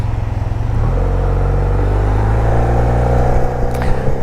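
A new motorcycle accelerating, its engine note rising steadily from a rough idle-like rumble into a loud, sustained whine, heard close up with wind noise.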